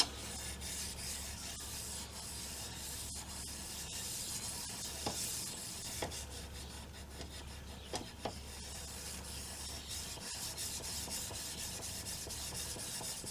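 A fillet knife blade being hand finished after heat treatment, a continuous faint scraping rasp of steady back-and-forth rubbing, close and alone, with a few soft knocks.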